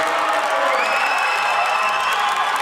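A large crowd at a CrossFit-style fitness competition cheers and applauds steadily, a dense, continuous roar of clapping and shouting with a few higher whoops rising above it.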